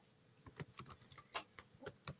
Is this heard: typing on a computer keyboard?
yes